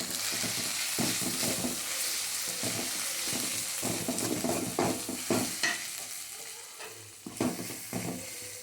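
Chili powder and turmeric frying and being stirred in a pan, a steady close sizzle with scraping stir strokes throughout, no voices.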